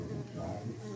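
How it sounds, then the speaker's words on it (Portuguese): Melipona scutellaris stingless bees buzz steadily at an urban hive, a close, continuous low hum with no pauses. "As abelhas."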